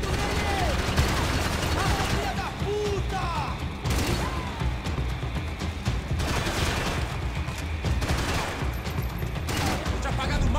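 Rapid bursts of gunfire in the video game Max Payne 3, dense volleys of shots repeating loudly across the whole stretch over a busy game soundtrack.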